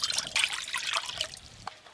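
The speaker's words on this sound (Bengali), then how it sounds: "ডিম সেদ্ধর জন্য কড়াতে একটু বেশি করে জল দিয়ে দেবো।" Water pours into a kadai pan for boiling eggs in a home kitchen, a close, splashy trickle with uneven bursts that tapers off toward the end.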